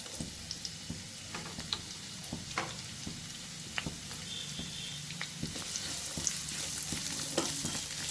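Chopped onions sautéing in hot oil in a kadai for a mealmaker gravy, a steady close sizzle with scattered small pops and ticks throughout, no talking.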